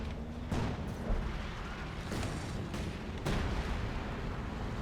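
Mortar rounds thud and burst in Company of Heroes 2 during a 2v2 match on Vaux Farmland, several distant booms spaced a second or so apart over a low rumbling battlefield.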